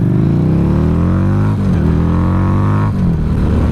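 A car engine revs hard close by while driving, its pitch climbing through the gears with two short dips as it shifts, loud and steady throughout.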